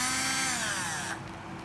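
An old cordless battery drill, a 12V model, whirs steadily at high speed with a bright, whining motor tone, then slightly winds down near the end; no talk.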